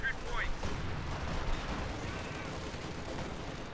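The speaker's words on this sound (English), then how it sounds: "they're being hit with a lot of mortars" Mortar and artillery fire in the Company of Heroes 2 video game, a dense continuous rumble of distant blasts and gunfire with no clear single shots, steady throughout.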